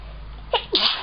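A single sharp sneeze, a brief intake followed by a loud burst, close to the listener in a quiet room.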